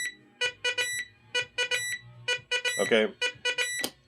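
Electronic beeping from a Telstar Gemini pinball video game console, played through the unit's own built-in speaker: short repeated tonal bleeps in quick bursts, close and fairly loud, with a brief spoken word partway through.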